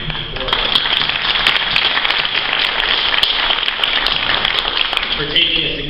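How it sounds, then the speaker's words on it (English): Audience applause at a village state-of-the-address event, a loud, hissing wash of many hands clapping that continues throughout, with a few voices briefly rising near the start and at the end. "I want to give a special round of applause to Dick"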